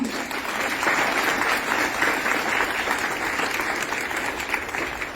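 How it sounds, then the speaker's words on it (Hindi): Audience at a Domana Tree Talk gathering bursts into steady, vigorous applause for an award-winning retired IFS officer and author, the dense clapping holding loud and even throughout. "इसके लिए जोरदार तालियां।"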